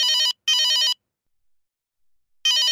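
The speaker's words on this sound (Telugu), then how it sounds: "అరే కంపెనీ సీఈఓ ఫోన్ చేస్తున్నాడు, లిఫ్ట్ చేసి మాట్లాడరా." A phone rings in loud, bright electronic bursts: two close together, a long pause, then another burst starting, with no voices.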